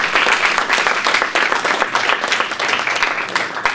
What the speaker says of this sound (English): So if we can just give a little applause for Wolf Form,